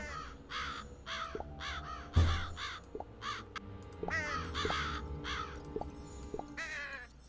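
Crows cawing inside the Nancy Drew Dossier: Lights, Camera, Curses! video game, a string of harsh caws repeating steadily over a soft ambient game background, fairly close and loud, with no talk.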